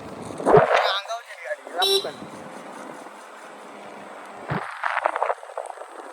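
A vehicle horn toots briefly on a road heading toward a dam, a short burst near the start, over engine hum, with other horn-like tones and voices nearby.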